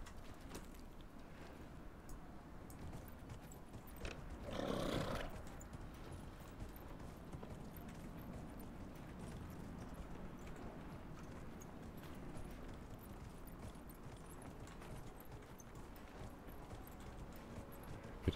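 Horse hoofbeats clip-clop steadily through a mounted ride in the fantasy game Dragon Age Inquisition, a continuous galloping rhythm with a brief louder burst near the start and no talk over it.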